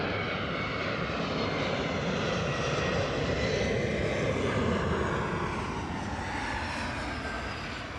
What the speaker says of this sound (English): you're picking up on the sound of an Embraer over here